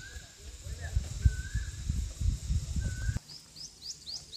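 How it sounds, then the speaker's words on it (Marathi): An Asian koel calls in a forest near mango trees, a few faint, drawn-out whistled notes and then a quick run of rising calls, heard over low rumbling and soft voices. "कोकिळाचा आवाज येतो का रे मित्रांनो?"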